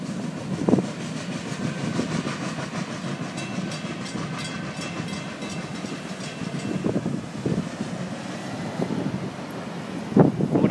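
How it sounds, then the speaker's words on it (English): A Florida East Coast Railway freight train rolls past at close range, with a continuous rumble, rhythmic wheel clatter and heavy wind buffeting on the microphone. "What a good looking train."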